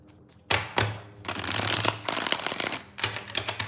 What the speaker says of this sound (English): 3 shuffles from this deck.